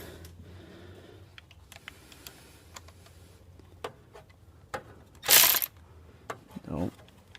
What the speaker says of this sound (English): start to loosen our set screws down